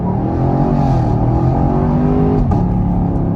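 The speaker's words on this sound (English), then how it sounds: "We'll give it a little bit of a rev, and let's go." A 2021 Chevrolet Camaro LT1 on new Indy 500 tires in competitive mode, its V8 loud and close, droning steadily and then rising in pitch as the car accelerates hard, with a brief shift-like break late in the run.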